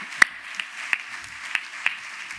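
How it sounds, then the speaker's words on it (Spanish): Applause from a gathering honoring someone on an island, a faint, steady patter with a few distinct, sharper claps standing out at irregular intervals. "Que nosotros a usted también le aplaudimos"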